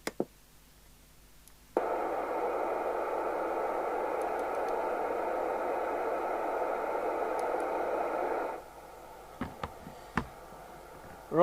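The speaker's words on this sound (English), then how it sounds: "We hear it hissing on receive." Steady broadband hiss from a Maxon MX2000 FM CB radio on receive, holding at an even level for several seconds before cutting off, followed by a few sharp clicks.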